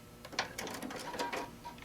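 A sewing machine with a 1D presser foot stitching the lining of a quilted pouch, giving a brief run of quiet rapid mechanical ticking stitches, close by with no talking.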